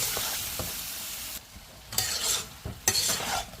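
Soybean and potato curry stirred in a pan, a close sizzle broken by bursts of scraping and swishing as the spoon moves through the masala, no voices.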